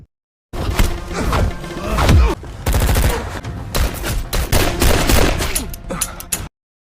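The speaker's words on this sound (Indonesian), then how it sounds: "Setelahnya barulah terjadi baku tembak." Loud, dense gunfire from a film shootout between secret agents, with overlapping bursts, automatic fire and heavy impacts sustained throughout, chaotic and close.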